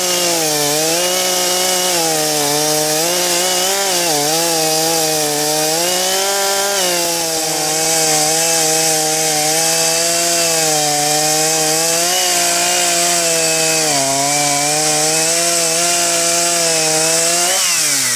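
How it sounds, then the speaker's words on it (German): A power saw trims the edges off a thick slice of ash wood, its motor droning loud and close in a continuous whine that shifts pitch slightly as it cuts, with no talking. "Da werde ich jetzt gleich nur diese Kanten noch absägen, damit er schon gerade ist."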